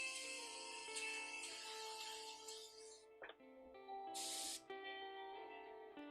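An airbrush spraying paint gives bursts of steady hiss, one long spray at the start and a shorter, sharper burst later, with small clinks between them.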